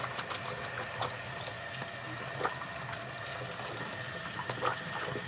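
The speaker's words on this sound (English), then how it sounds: "Let me wash my hands because I'm gonna wash my face." Water runs steadily from a tap as hands are washed at a sink, a constant close hiss with faint splashes and no talking.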